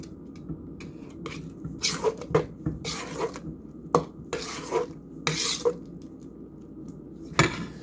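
Spoon or whisk stirring and scraping sweet potato pie filling in a bowl to break up lumps, with uneven bursts of clinking and scraping against the bowl, close and moderately loud with no talk.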